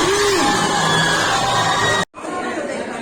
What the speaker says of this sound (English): Round of applause for the state of Goa for winning the National Hero Award of Goa 2023.